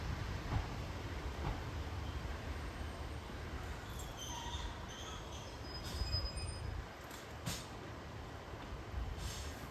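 Train rolling over the line near Coombe Junction Halt railway station, a steady low rumble of rail wheels with faint squeals, fairly quiet and with no talking.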